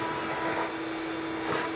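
A vacuum cleaner runs steadily inside a pellet grill chamber during a deep clean, a constant close whine with faint shifts as the nozzle moves around the fire pot area.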